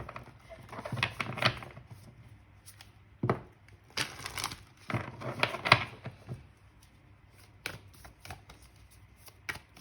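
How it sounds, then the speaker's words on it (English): Tarot cards being shuffled nearby in several short, papery bursts separated by pauses, moderately quiet with no talking. "because I will be shuffling."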